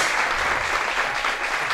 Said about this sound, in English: whooping and cheering from the German supporters